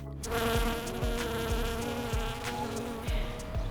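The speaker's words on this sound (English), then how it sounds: "like this honeybee, which was collecting pollen from a redbud tree in St. Louis yesterday afternoon" A honeybee collecting pollen from a redbud tree in St. Louis buzzes close by, a steady droning hum that wavers slightly in pitch, heard alone without any talking.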